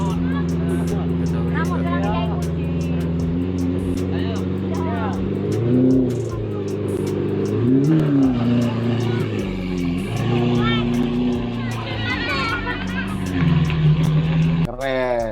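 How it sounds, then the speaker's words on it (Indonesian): A Lamborghini sports car drives through a village near Lamongan, East Java, during the Eid homecoming, its engine rising and falling in several revving swells. Crowd chatter and voices continue underneath. "Saiful mengendarai mobil Lamborghini ini"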